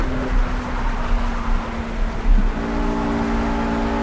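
A RUF RGT 8 with a 540-horsepower engine, simulated in the Project CARS racing game, drones steadily under acceleration. Its tone shifts partway through as the revs change, with a low rumble beneath and no talking.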